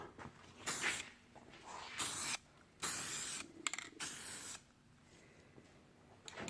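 Spray paint hisses onto a Buick front bumper in several short, separate bursts of a second or so each, near and fairly soft, with quiet pauses between passes.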